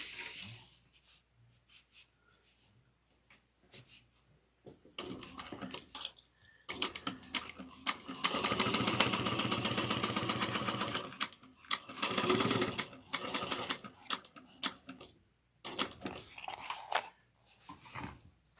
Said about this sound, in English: now we're going to top stitch 1/8 of an inch, and we're going to go up, across, and down